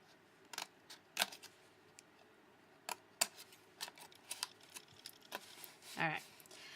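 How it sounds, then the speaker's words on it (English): Scissors snip through paper craft pieces for a Valentine project, a series of sharp, scattered cuts and crisp rustles at close range, quiet overall with brief pauses between snips. "We don't need this front one, so we're cutting that out."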